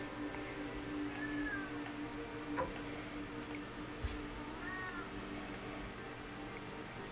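A cat meows a few times in the video game Moonscars, thin rising cries spread out over a steady hum of game music and ambience, with one short sharp click partway through.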